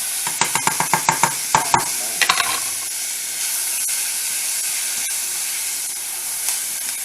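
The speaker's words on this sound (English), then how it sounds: "Now we're going to stir that up." Garlic and rice get stirred in a hot pan: a quick run of sharp spoon clicks and scrapes comes first, then a continuous hissing sizzle carries on alone.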